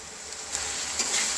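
A tomato-paste spice mix with ginger, salt, turmeric, chili and cumin fries with a close, steady sizzle while it is stirred, with a few scrapes rising over the hiss.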